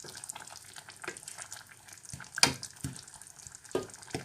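A pot of food simmering gently on low heat gives soft irregular bubbling and faint sizzle, with a few sharper pops and clinks over a quiet background.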